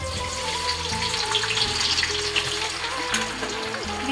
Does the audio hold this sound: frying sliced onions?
yes